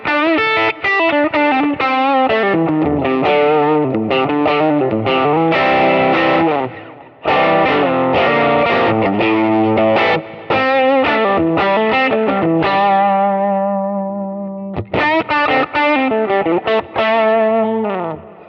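An electric guitar played through a Kemper amp dialed super mid-heavy with bass and treble pulled out, ringing chords and arpeggiated notes continuously and loudly for the whole stretch, with only a brief gap midway.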